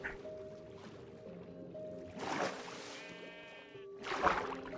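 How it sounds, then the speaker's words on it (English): Sheep bleat in the video game Minecraft, a couple of wavering, nasal cries spaced a second or two apart over a soft ambient background hum. "I hear sheep"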